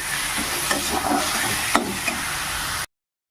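Ash gourd slices frying in a pan, a steady hiss of sizzling oil broken by a few scraping stirs and light knocks of a spatula, then the sound cuts off abruptly near the end.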